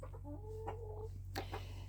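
Backyard chickens cluck quietly in a coop, a few short murmured clucks with a brief louder call, over a steady low hum.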